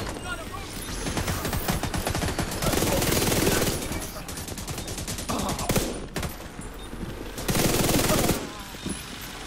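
An M60 machine gun firing in The Division, long sustained bursts of loud automatic fire broken by short pauses, with a voice speaking in between.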